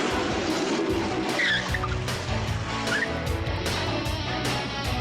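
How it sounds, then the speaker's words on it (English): A 1980s car in a movie, its rough engine revving under repeated sharp tire squeals and skids, loud and close throughout. "Wow, that car sounds like shit."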